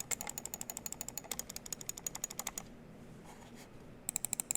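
Crisp, rapid clicks of a Razer Orochi mouse switch in quick regular bursts, close and loud, pausing briefly before another short run of clicks.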